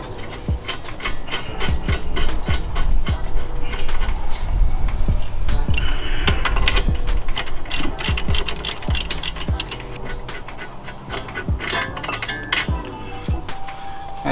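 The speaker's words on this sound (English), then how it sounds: "Take out the bolt, 17mm." Ratchet wrench loosening a 17mm bolt during a brake job on a Mazda 3, giving rapid continuous clicking in quick bursts with scraping tool noises, close and loud throughout.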